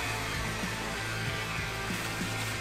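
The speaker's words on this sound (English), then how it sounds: "start adding some of the burn through with the Dremel" A Dremel rotary tool runs at low speed, grinding burn-through weathering into a 1/10 scale RC body with a steady, close, unbroken whine and no talking.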